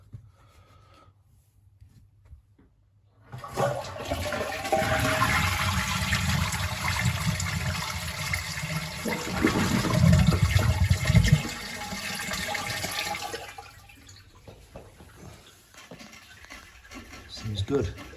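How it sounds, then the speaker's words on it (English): Toilet flush test after a plumbing repair: a rush of draining water swells and surges for several seconds, then the cistern refills with a softer hiss, heard close up. "So now we're going to do a flush test."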